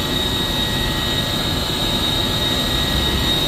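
A WME magnetic bearing chiller at a hospital, running again after a solenoid valve replacement, gives a steady, even machine hum with a high, thin whine on top. It is continuous and level throughout, with no talking.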